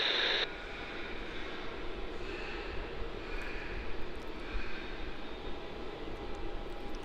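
An airliner on runway 16 at Melbourne Airport gives off a steady, moderately distant engine rumble and whine that holds throughout without voices.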